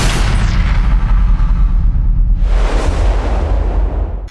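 A loud rifle shot fired at a whitetail buck on a hunt, heard as a booming blast with a long rolling echo that swells again and fades across open ground.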